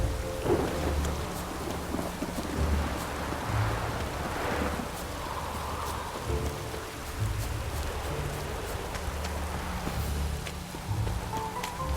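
Steady rain pours through a scene in The Witcher 3: Wild Hunt, with low rolling thunder rumbling beneath the continuous hiss and patter throughout.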